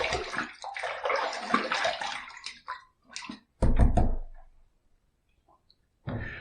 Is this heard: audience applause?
no